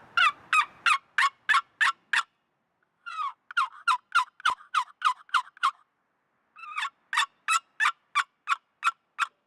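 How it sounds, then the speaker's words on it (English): A paddle box turkey call produces repeated high, raspy turkey yelps in three quick rhythmic runs separated by short pauses, clear and close. "it is a standard paddle box call. Really great for those long distance yelps,"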